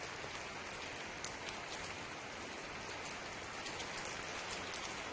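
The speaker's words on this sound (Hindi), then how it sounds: "और इस वक्त ना ये बूंदाबांदी हो रही है।" Light drizzle falls at night, a soft steady hiss of fine raindrops with occasional small taps, faint and continuous, no voices.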